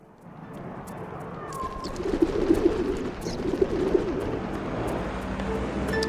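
Pigeons coo softly in the Sly 2 video game, a few low murmuring calls over a steady ambient outdoor game background, with faint chirps scattered above.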